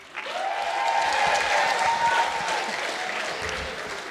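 A comedy-show audience in a hall breaks into clapping that swells quickly, holds steady for a couple of seconds, then fades, with a few whoops rising above the applause.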